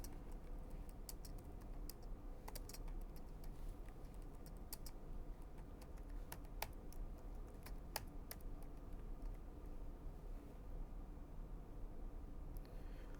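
Java code being typed on a computer keyboard, with quiet, steady clicking keystrokes running throughout, some sharper taps standing out, and no talking.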